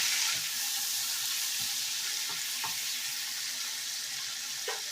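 Chopped tomatoes hit hot oil in a pan, producing a constant bright, hissing sizzle with soft scraping stirs scattered through, close and steady, with no voices.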